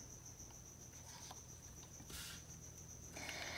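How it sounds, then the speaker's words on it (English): A cricket indoors chirps in a steady high-pitched trill, faint and continuous against quiet room tone, with a brief rustle partway through. "My cricket friend is still here."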